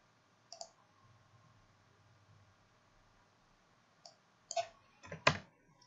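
A computer mouse clicks in Adobe Illustrator, with a single faint click early, then a short burst of several quick, quiet clicks near the end, with no talk over them.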